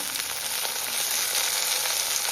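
Cinnamon, clove, pepper, ginger and garlic fry in hot oil for a chicken biryani, producing a loud, close, continuous sizzle with no voices.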